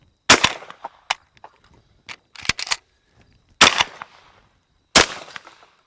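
A Retay Gordion semi-auto shotgun fires light target ammo outdoors, giving sharp, loud reports spaced irregularly across a few seconds, with softer clicks and clatter of the action cycling between shots.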